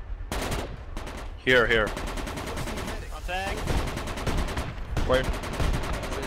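Rapid bursts of automatic gunfire in the Project Reality military shooter, loud and repeated across the whole stretch, with players talking tactically between and over the shots.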